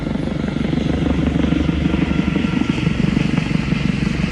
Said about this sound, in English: a helicopter outside right now.